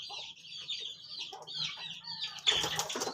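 Backyard hens cluck in a series of short, close calls, with a sudden burst of wing flapping near the end.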